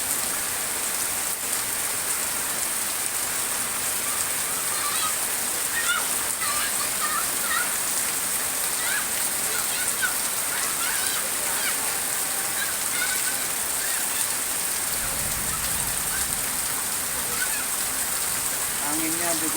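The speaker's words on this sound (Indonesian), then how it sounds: "Untuk siang hari ini wilayah Cikarang diguyur hujan deras ya kawan-kawan ya" Heavy rain pours down in Cikarang, a steady dense hiss of drops drumming on surfaces throughout, with wind and a faint voice talking underneath.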